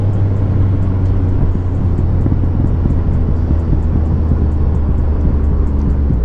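Yamaha MT-09 motorcycle engine pulling hard in fourth gear in A mode, a loud, steady low drone with constant wind rush over the microphone throughout, no talking.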